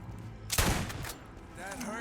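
Shotgun fire against zombies in the Borderlands video game: one loud blast with a ringing tail, followed by a weaker shot amid the game's background noise, ending in a short electronic whine.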